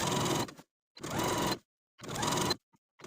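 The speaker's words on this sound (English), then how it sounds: "And then I'm going to edge stitch again close to the inner fold all the way around." A sewing machine edge stitches close to the inner fold of a rolled hem on a blouse, running in three steady bursts of about half a second each, loud and near, separated by short silent pauses.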